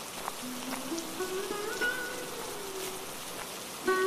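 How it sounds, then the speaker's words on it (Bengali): Rain falling outdoors, a steady soft hiss of drops on surfaces, moderately quiet and continuous, with faint tonal sounds drifting above it. "ভাবছি এখনো তো বৃষ্টি পড়ছে, নদীতে কি মাছ পাবো?"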